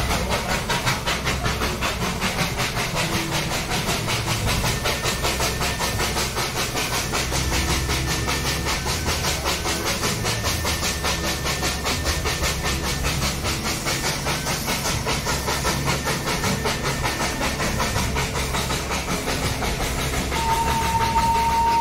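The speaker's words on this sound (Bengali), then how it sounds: "এই এত সুন্দর করে পুরো লুপটা ঘুরে ট্রেনটা যে কতটা ওপরে উঠে যায়" Darjeeling Himalayan Railway toy train steam engine climbing around the Batasia Loop, a loud continuous steam hiss with rapid rhythmic chuffing and rail rumble, steady throughout without speech, a thin whistle-like tone creeping in at the very end.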